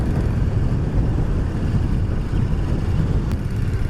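A 2007 carbureted Royal Enfield Bullet 500 Classic, about 21 brake horsepower, runs in fourth gear while riding over gravel. Its engine gives a steady, loud low rumble mixed with constant wind buffeting across the whole stretch, with no talk.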